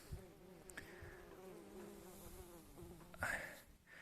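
Bumblebees buzz at their nest in a highland meadow, a steady close drone of several insects with wingbeats rising and fading as individual bees pass near.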